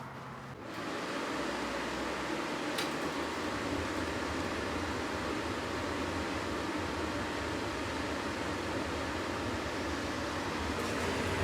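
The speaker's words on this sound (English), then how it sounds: "we have ignition. This furnace is putting out heat." RV furnace powered by a Dewalt Powerstack battery kicking on, a sudden rise into a steady broadband whoosh of the blower and burner that runs evenly and fairly quietly from then on.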